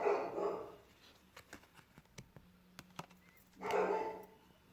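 A dog barks in a rapid series of sharp, distant yelps, and indistinct voices or rustling are heard at the start and end.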